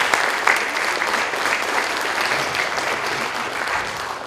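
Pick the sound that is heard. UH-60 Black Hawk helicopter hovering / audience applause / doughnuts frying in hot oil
audience applause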